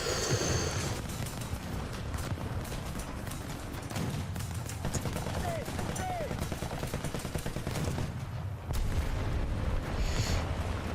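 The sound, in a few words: explosion in a video game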